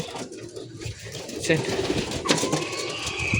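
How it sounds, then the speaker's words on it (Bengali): Pigeons coo softly and repeatedly in an outdoor setting, with a person's voice talking over the birds throughout. "আমার দ্বারা কবুতর ধরা হবে না, এগুলো অনেক ছোট"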